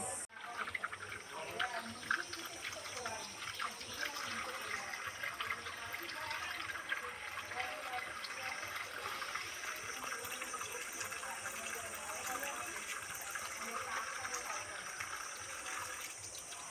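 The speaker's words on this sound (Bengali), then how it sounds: "মাছগুলো তো সব গুছিয়ে কেটে নিলাম, এবার ফ্রেশ করে ধুয়ে নেব" Pomfret fish pieces get washed under a running kitchen tap, a steady gush and splash of water that holds for the whole stretch at moderate, close level with no voices.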